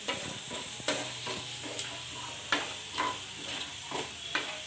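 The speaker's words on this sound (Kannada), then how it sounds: "ಒಂದು ಸ್ವಲ್ಪ ಕಡಲೆಬೇಳೆ ಒಂದು ಸ್ವಲ್ಪ ಉದ್ದಿನಬೇಳೆ ಒಂದು ಸ್ವಲ್ಪ ಜೀರಿಗೆ ಇದೆಲ್ಲ ಒಂದು ನಿಮಿಷ ಫ್ರೈ ಮಾಡ್ತಿದ್ದೀನಿ" Chana dal, urad dal and cumin sizzle steadily in a pan. A spatula gives periodic sharp scrapes and clicks against the metal, and the frying hiss runs underneath without pause.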